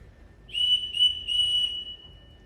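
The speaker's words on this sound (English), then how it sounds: "Everyone in this house answers to a whistle." A shrill whistle blown as a household signal in a stage musical, three sharp bursts in quick succession with the last held longest, loud and clear over a quiet room with no talking.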